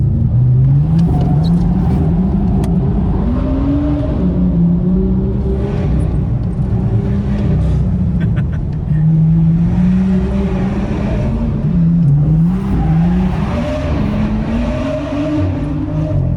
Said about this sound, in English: It's such a distinctive sound of this N55 engine, which I really, really like.